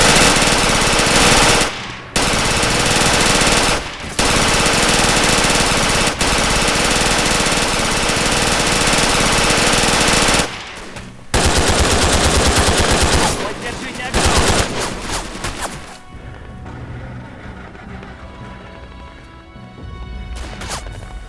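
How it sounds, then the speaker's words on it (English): A PPSh submachine gun in the WW2 shooter Red Orchestra: Ostfront fires long, rapid, rattling automatic bursts, loud and close, cut by brief pauses, before fading into quieter shots and echoes near the end. "it is the PPSH sound. I have never heard a gun more annoying than this."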